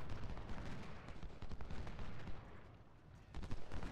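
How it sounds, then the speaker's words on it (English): Rapid musket volleys from breech-loading carbines in the Civil War game Ultimate General, dense overlapping crackling gunfire rolling continuously with sharper bursts near the end. "See, they just got 3 quick volleys off on Trimble."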